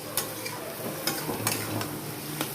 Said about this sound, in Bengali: লোটে মাছটা দেওয়ার পরে আমি এখন কষাবো